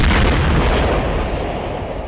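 Pipe bombs explode in the Killing Floor video game, a loud, dense blast filling the whole clip that slowly thins into a rumbling roar.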